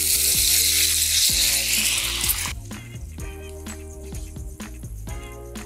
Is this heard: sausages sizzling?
yes